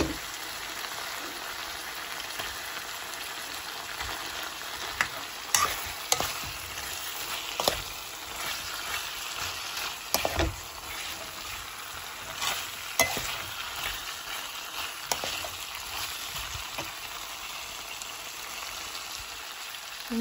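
Paneer and potatoes frying with ginger and cumin in a pan, a continuous soft sizzle broken by repeated scrapes and taps of the stirring spoon, with no voices.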